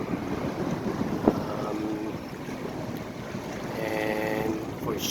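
A Catalina Express passenger boat picks up speed on the water near Long Beach, giving a continuous engine drone with wind buffeting the microphone and waves washing along the hull.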